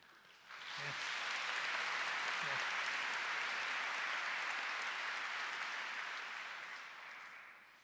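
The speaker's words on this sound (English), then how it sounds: "the principal manages to engineer a huge round of applause at the end of his speech" Graduation ceremony audience at Dundee University bursting into a large, sustained round of applause after the principal's speech, dense even clapping swelling quickly and holding steady before tapering slightly at the end.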